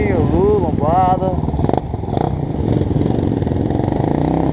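A large group of more than twenty motorcycles riding together on a road trip, engines revving and rumbling close by with passing bikes, while someone talks loudly over the engine noise.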